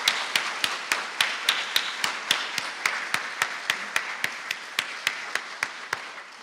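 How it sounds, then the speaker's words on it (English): Rhythmic clapping for a group of young people at a Sunday church service, a steady run of evenly spaced claps lasting several seconds at moderate level. "So can we just give all of these young people a round of applause?"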